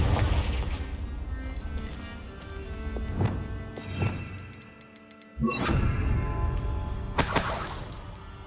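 Confringo blasting spell in Hogwarts Legacy, several sharp cracking impacts with shattering debris and a whooshing burst, closing with a bright crash.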